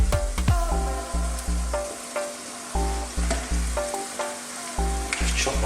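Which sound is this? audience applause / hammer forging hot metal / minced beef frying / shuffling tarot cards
minced beef frying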